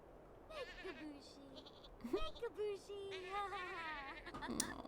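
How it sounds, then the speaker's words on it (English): Small sheep and goats bleat repeatedly in The Sims 4, a string of wavering cries rising and falling in pitch, fairly close and clear over a faint background bed of game ambience. "Another thing that I also want is mini sheep and mini goats."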